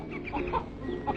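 Poultry at a school where young students keep fowl, clucking in a few soft, irregular bursts against a steady low background murmur.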